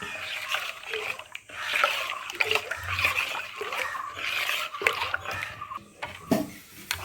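Wheat grain juice being stirred with jaggery and salt for a traditional cold drink, giving soft liquid sloshing and splashing with light clinks of a utensil against the vessel, steady and close throughout.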